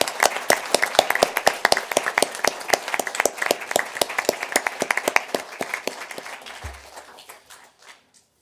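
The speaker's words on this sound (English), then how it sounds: "So can we give them a round of applause?" A small group claps for a high school marching band at a borough council meeting, with sharp individual claps in a quick, uneven rhythm that gradually thin out and stop.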